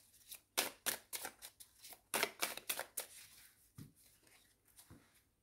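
Tarot cards being cut and drawn during a nine-card reading, with a string of close, crisp snaps and slides coming in quick bursts, then a few softer, spaced taps near the end.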